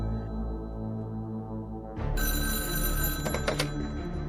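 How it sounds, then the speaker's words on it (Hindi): A telephone bell starts ringing sharply partway through, loud and close, after a stretch of steady low background hum. "सुनील फौरन समय गवाए बिना इंस्पेक्टर गायकवाड़ को फोन करता है।"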